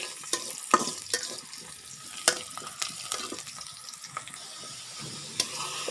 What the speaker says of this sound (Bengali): এখন আমি পেঁয়াজ ভাজতেছি